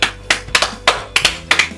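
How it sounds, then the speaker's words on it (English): A single person clapping a round of applause, about seven sharp, close, uneven hand claps in quick succession. "A round of applause."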